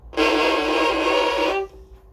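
A harsh, scratchy bowed violin note, bow pressed too hard on the strings, grinds for about a second and a half, gritty and noisy, close and loud.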